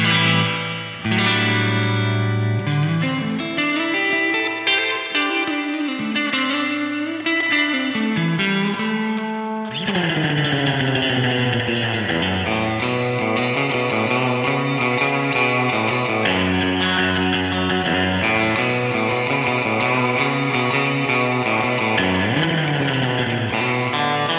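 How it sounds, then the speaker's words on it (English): Electric guitar through an Axe-Fx III drenched in a deep, dark spring reverb, notes washing and smearing together with a distorted, echoing tail throughout. "That big wash of dark sounding spring reverb."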